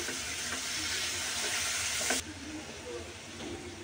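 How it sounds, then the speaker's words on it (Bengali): Spices with salt, turmeric, red chili and cumin powder frying in a pan for a prawn dish, a soft steady hiss that drops away abruptly partway through, leaving quieter sizzling. "সাথে দিয়ে দিব লবণ, হলুদের গুঁড়ো লাগবে, লাল মরিচের গুঁড়ো লাগবে, জিরার গুঁড়ো লাগবে। ভালো করে ভেজে নেব একটু।"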